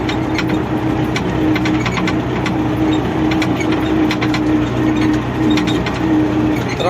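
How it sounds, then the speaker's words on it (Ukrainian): A tractor drives along with its engine running steadily, a continuous near, loud drone with a faint rhythmic knock and no talk. "Трактор їде дуже добре, тихенько, рульова на дозаторі."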